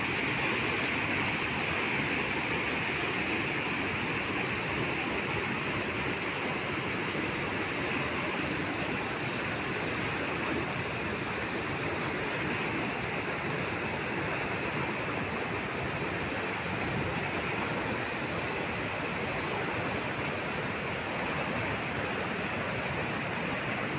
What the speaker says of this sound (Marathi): यंदा नदीला जबरदस्त पाणी आलेलं दिसत आहे